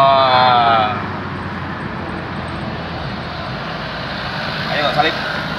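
Engine noise from a 2009 Panther Grand Touring or 2005 Innova with Blackcore tuning, heard from inside the car as it accelerates on the road, a steady broad roar with a brief rising whine near the end and voices around it.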